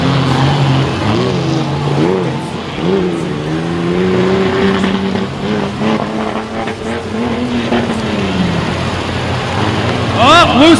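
Monster truck engines rev and race at a Renegade Monster Truck Tour event in Marietta, with loud rising and falling engine tones running continuously under a commentator's voice and crowd noise.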